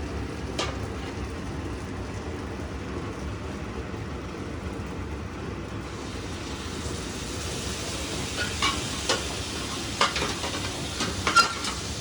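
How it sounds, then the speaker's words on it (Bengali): Salted brinjal (eggplant) slices frying in hot oil in a pan, a steady close sizzle throughout with occasional stirring clatter growing more frequent toward the end. "আসলেই দেখতে দেখতে চমৎকার একটা বেগুন ফ্রাই হচ্ছে"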